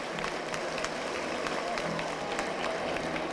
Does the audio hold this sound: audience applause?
yes